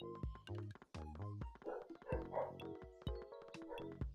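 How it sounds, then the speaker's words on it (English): A dog barks in sharp, close bursts, repeated several times in an uneven rhythm. Some of the barks turn into yips and whines. "Can you guys hear the other dog?"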